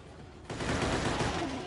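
Rapid bursts of gunfire from the mobile shooter game Dead Trigger, played on a Nexus 7 tablet, erupt about halfway through and continue as a dense, loud fusillade.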